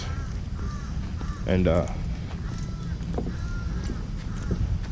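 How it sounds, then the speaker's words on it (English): Crows cawing outdoors, a few harsh calls near the middle over a steady background of ambient noise, with someone speaking briefly nearby. "Oh, you hear that? Man, those guys, those are crows."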